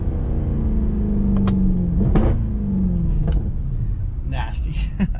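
Mercedes C63 AMG engine droning steadily in cabin on a snowy winter drift run, with a rising-falling pitch sweep around the middle as the revs are blipped on a downshift into second, a voice briefly speaking near the end.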